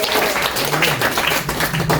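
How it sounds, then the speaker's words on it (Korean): High school students at a career lecture clap together in a brief, steady burst of dense applause, fairly loud and with no talk over it. "자, 우리 다시 한번 박수."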